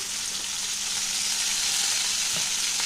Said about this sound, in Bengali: ফুলকপিটাও আলুর সাথে ভেজে নেবো।